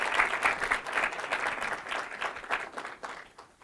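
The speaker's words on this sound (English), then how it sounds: "a nice round of applause" A crowd applauds steadily, a dense wash of many hands clapping that fades slightly toward the end.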